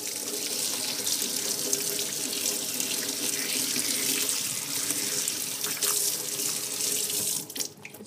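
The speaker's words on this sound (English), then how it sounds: "Rinse them in water." A kitchen tap runs steadily into a sink while a handful of pennies are rinsed under the stream, a continuous close splashing hiss that falters briefly near the end.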